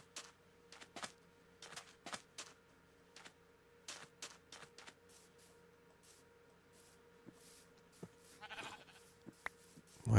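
Sheep bleat in the Minecraft video game, several short game-sound bursts scattered through the clip over a steady background, with no talking.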